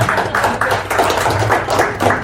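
Applause from a small group of participants at an industrial relations training session, a few scattered hands clapping in uneven bursts, close and moderately loud, with no talk.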